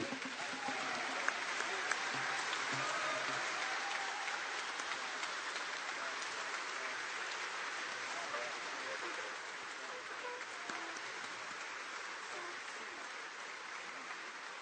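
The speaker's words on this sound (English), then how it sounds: "give my man Bernard McGuire a rousing round of applause" A roomful of people giving a standing ovation during a New York morning radio broadcast: dense, sustained applause heard fairly quietly as a continuous rain-like wash with no individual claps standing out.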